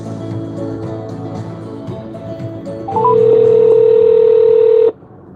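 Telephone keypad tones dial in a quick run of short beeps under low background voices, then give way to a steady, loud dial or ringback tone lasting about two seconds before cutting off.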